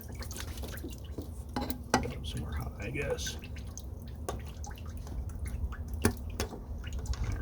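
Water drips and splashes during a thermostat change on a 1994–96 Cadillac Fleetwood: scattered sharp drops and small splashes land irregularly under someone talking, with faint clinks of parts and tools.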